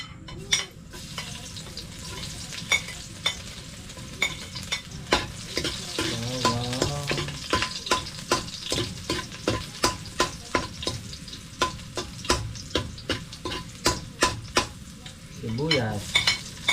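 Garlic sizzles steadily in a hot pan while a utensil scrapes and stirs in a quick, regular rhythm, close and clear with no talking.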